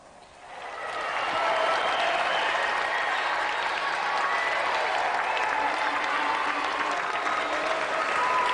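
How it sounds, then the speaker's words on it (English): A TV game show studio audience bursts into applause that swells within a second and holds steady and loud, a dense wash of clapping with faint cheering mixed in. "Round of applause for tonight's challenger."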